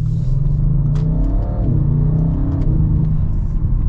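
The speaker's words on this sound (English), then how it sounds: "now with the valves open, I mean, it's got this nice V8 grumble" Audi RS6 Avant V8 revving with its exhaust valves open, a deep loud grumbling rumble that rises and falls steadily, close and sustained throughout.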